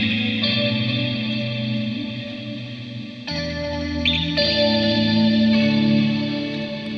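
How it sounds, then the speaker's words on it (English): An Eventide Space pedal running its mod echo verb reverb algorithm turns sustained instrument chords into a lush, shimmering wash with modulated echoes that swell and blend and shift in pitch midway, heard alone without talk. "This is mod echo verb."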